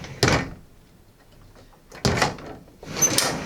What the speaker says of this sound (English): Now your sliding doors are latched open, so you have to pull down on the latch in the face of it to close it.